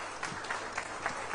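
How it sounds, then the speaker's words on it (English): Applause from the audience at an annual public lecture in Kaduna, a brief, steady patter of many hands clapping at moderate distance. "I believe the applause can be a bit louder."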